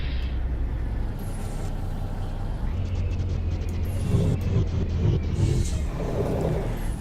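In American Truck Simulator, a heavy truck's engine brake sounds as a steady low drone that breaks up unevenly, with the truck's engine rumbling underneath from start to finish.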